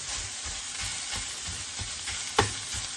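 Meat browns with onions in a hot pan for holiday stuffing, giving a continuous close sizzle and crackle with a steady hiss, broken by one sharp utensil clink near the end.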